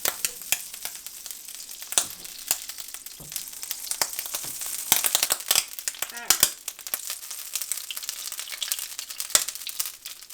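Home fries frying in oil and butter on a stovetop, with loud crackling spits and pops scattered over a steady close sizzle, plus occasional stirring scrapes.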